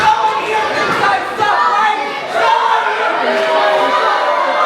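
Wrestling crowd at a Warriors of Wrestling live event, a dense, steady roar of many voices filling the hall at a singles match involving Justin Adams, with brief surges and dips but no clear individual chants.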